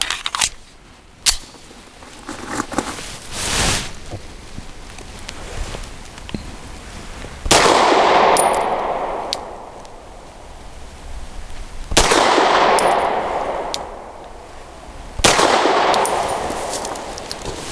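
Loud single gunshots from a Wilson Combat SFT9 pistol firing Hornady Critical Defense Lite 100-grain FTX ammunition outdoors in cold weather, a few sharp cracks spaced seconds apart, some with ringing echoes, plus a camera's faint whirring.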